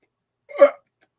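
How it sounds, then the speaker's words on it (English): A single short, close burp, a quick voiced gulp lasting a fraction of a second in otherwise silent surroundings. "That was a burp."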